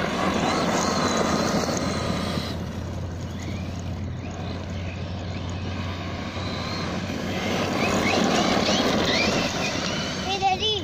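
ZD Racing Pirate 2 RC car with a Turnigy XK-4074 2000KV motor and 15-tooth pinion, running at full throttle outdoors: a thin, fluctuating electric whine rises and falls as the car speeds about, under excited talk.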